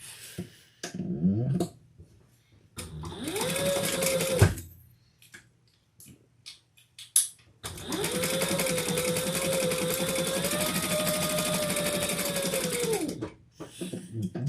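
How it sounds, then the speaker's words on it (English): A sewing machine bastes around a small sling pack pocket in two steady runs, the first short and the second longer, with brief pauses and faint handling noises between. "now we're going to baste all the way around that"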